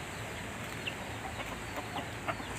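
Chickens and young chicks on a mountain homestead, faint soft clucks and peeps scattered over a quiet outdoor background, with no voices.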